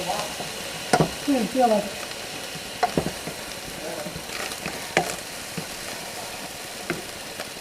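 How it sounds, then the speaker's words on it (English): Scrambled egg sizzles in a hot pan while being stirred and mixed, a steady frying hiss with scraping clinks, and a person speaks briefly over it. "we're going to scramble the egg up, and we're going to mix it all in"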